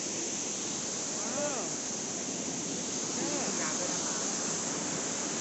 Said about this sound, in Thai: เห็นไหมน้ำตกเราอยู่ด้านหลังนะครับ